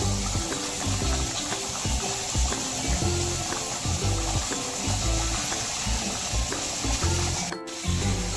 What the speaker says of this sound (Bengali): হ্যাঁ, তরকারিটা এখন ফুটছে।